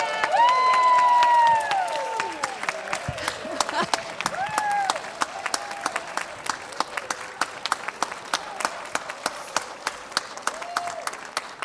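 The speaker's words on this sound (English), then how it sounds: "I appreciate it when they get applause" A church congregation claps for volunteers during a service, a moderate round of applause with scattered sharp claps trailing off, while a voice speaks over it and then continues alone.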